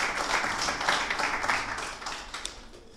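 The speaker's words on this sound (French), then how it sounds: "I would like you to applaud him, please." Audience applause at the official launch of a rehabilitation centre in Artibonite, Haiti, a dense, steady patter of clapping that fades slightly toward the end.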